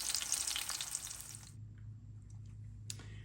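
Coconut shrimp frying in a pan on a gas stove set just above low, giving a steady crackling sizzle that cuts off abruptly midway, followed by a quiet low hum and a single faint click.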